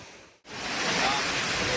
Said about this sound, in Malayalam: ഫൈനലി നമ്മൾ ആതിരപ്പള്ളി വാട്ടർഫാൾസിൽ എത്തിയിരിക്കുകയാണ്